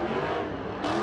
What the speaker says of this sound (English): Cars took over an intersection doing burnouts, donuts